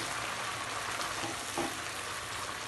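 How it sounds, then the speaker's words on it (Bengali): Chicken in spice masala with hot water just added, stirred briefly in a pot for Afghani Kabuli pulao, giving a steady close sizzle with soft stirring scrapes throughout, no voices. "হালকা একটু নাড়িয়ে নেব।"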